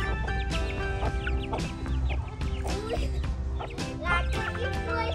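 Several chickens, including roosters, cluck and chatter close by, overlapping short calls in an uneven rhythm, with faint background noise and no talking.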